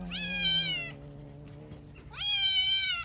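Two long, loud, drawn-out cat meows close by, separated by a brief pause with faint background noise.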